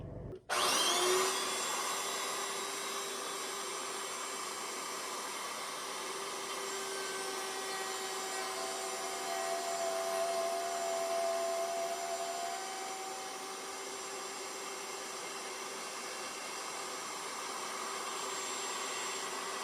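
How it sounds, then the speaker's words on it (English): Router fitted with a flat bit, set up to cut a slot for a glass bottle cutter, switching on with a sharp start and then a loud, steady, high-pitched whine that holds for the rest of the clip. "And we start our router."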